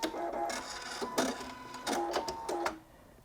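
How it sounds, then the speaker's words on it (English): Automatic needle threader on a Husqvarna Viking Designer Ruby 90 embroidery and sewing machine, several short mechanical whirring and clicking bursts with brief pauses, close and fairly quiet, no talk. "Threading a needle has never been quicker or easier."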